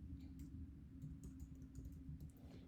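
Typing on a computer keyboard: quiet, rapid clusters of light key clicks over a low steady hum, close and faint, with no talking.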